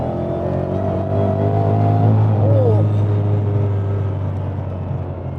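An 800 BHP supercharged Ford Mustang, the Clive Sutton CS800, accelerating hard with a loud, close engine roar whose pitch climbs through a gear, then settles into a steady heavy drone.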